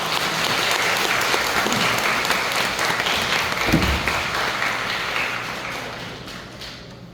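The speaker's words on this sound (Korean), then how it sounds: "먼저 힘찬 박수로 신부님을 감사드립니다." A church congregation at a Catholic parish confirmation class claps warmly for the priest, a loud, dense and steady wash of applause that holds for several seconds before gradually thinning toward the end, with a brief low thump midway and no voices.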